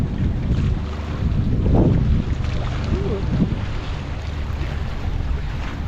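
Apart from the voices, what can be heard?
wind and choppy lake water at campground before storm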